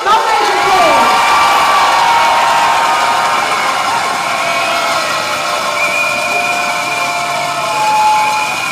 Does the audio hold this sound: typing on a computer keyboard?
no